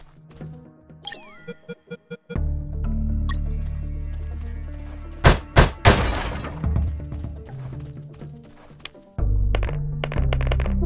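In the video game UnMetal, a coin drops and bounces on the ground with a few quick metallic clinks, followed by louder game effects, crashes and music.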